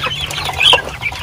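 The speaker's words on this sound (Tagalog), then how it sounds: "Kaya naman po yung manok natin oh." Pure native free-range chickens cluck close by, a short burst of busy clucking and a higher squawk lasting about a second, loud and near.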